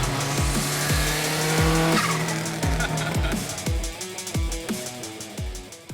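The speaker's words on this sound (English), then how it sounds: "I'd rather be toasting tyres, side to side." Street race car tyres squealing as the car swings side to side, loud repeated screeches in a quick rhythm over a roaring engine.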